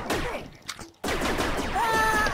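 Blaster-style gunfire in a Star Wars video game: a quick burst of shots and whooshes, a brief drop, then dense firing resumes with a rising electronic tone, loud and close.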